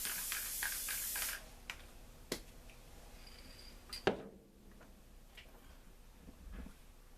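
Short bursts of hissing spray from an aerosol can of spray adhesive, mixed with light tapping and handling noises, quiet and close.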